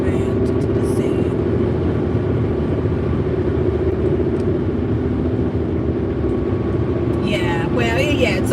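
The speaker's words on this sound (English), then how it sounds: "Driving to Tennessee." A car drives along the road to Tennessee, its steady low engine and tire rumble filling the cabin evenly throughout, with a brief brighter whoosh near the end.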